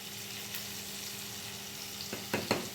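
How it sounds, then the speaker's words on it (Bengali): Dried red chillies and bay leaves sizzle in hot oil, a soft, steady crackle with a couple of sharper spits near the end, close but quiet. "শুকনো লঙ্কা তেজপাতা ফোড়ন দিয়ে দিয়েছি"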